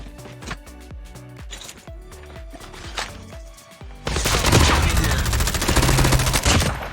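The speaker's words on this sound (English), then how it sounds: "we took the shot in super close range with the ADS" Close-range gunshots from a shooter video game, fired with aim-down-sights: a rhythm of sharp single shots over background game music, then a dense, loud burst of rapid fire filling the last three seconds.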